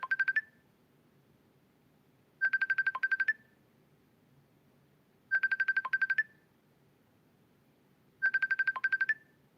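An incoming phone call sounds a trilling electronic ringtone in four evenly spaced bursts of rapid pulses, moderately loud over a quiet room.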